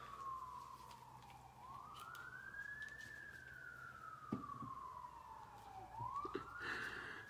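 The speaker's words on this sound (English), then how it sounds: "There go the sirens again" A faint, distant siren wails up and down in slow sweeps, with quiet background hum and no talking.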